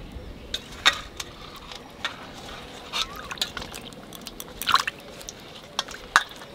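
Raw jackfruit pieces dropped into water give a string of close, scattered drips, splashes and small wet squishes at irregular moments, fairly quiet against a soft background hush.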